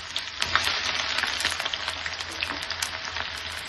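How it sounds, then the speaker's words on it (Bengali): Onions for chicken dum biryani fry in hot oil, producing a close, continuous crackling sizzle with dense popping bursts throughout, unaccompanied by speech. "পেঁয়াজটাকে লাল লাল করে ভেজে নেব"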